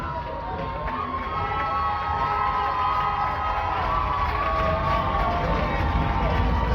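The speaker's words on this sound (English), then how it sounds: "stomping their feet, clapping their hands, doing all they can to cheer on their Wildcats" Crowd at a Worcester Wildcats football game cheers steadily, a dense, continuous roar of voices and shouts that carries a loose rumble of stomping and clapping, with nothing standing out from the mass.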